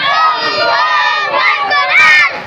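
A large crowd at a Bengali religious gathering roars back a loud, sustained shouted response to a Nara-e-Takbir chant, many voices merging into one dense, continuous cheer that swells near the end.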